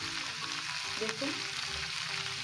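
Spices sizzle steadily in a pan while a spoon scrapes and stirs through them in a few short strokes, close and even in level.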